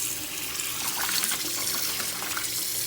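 Warm water runs steadily from a tap into a sink or bowl for soaking mushrooms, a close, continuous splashing gush with no voices over it.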